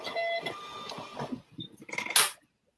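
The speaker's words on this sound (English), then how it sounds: "that's the little printer printing out our addresses" A small label printer runs out a batch of address labels, buzzing and clicking in short bursts with a brief louder whir near the end, fairly close and with no talk over it.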